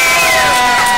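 A crowd at an outdoor Farm Bill rally in Santa Fe gives a brief, loud burst of cheering and shouting, lasting about a second.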